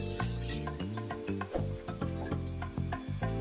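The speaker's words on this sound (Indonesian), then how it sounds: "Minyaknya udah panas banget, sekarang kita akan goreng si ikan roanya ya." Roa fish, a smoked fish from Manado, fries in very hot oil, and a soft sizzle runs beneath steady, rhythmic background music.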